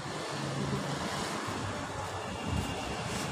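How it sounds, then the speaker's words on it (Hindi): Cold wind blows steadily outdoors in rainy weather, a broad continuous rush with gusty microphone buffeting that swells slightly near the end, loud and close with no talking. "ठंडी हवा चल रही है"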